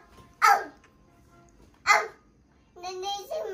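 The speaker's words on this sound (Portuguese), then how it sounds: "Tá vendo o cachorrinho?" A dog barks twice in short, sharp bursts about a second and a half apart, followed by a voice. Quiet indoor family setting.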